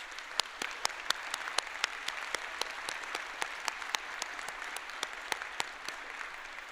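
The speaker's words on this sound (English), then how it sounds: "let's give a big round of applause to our honored guest" At a business school graduate convocation, an audience claps for honored guests; a steady bed of crowd applause is punctuated by loud, regular nearby claps in a brisk rhythm.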